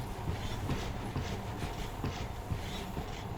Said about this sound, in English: now this monorail seems magic, doesn't it?